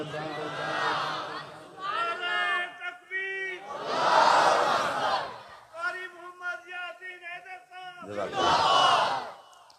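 Crowd at a religious gathering in a mosque chanting slogans in call-and-response, a lead voice calling out between loud massed shouted replies, three big bursts.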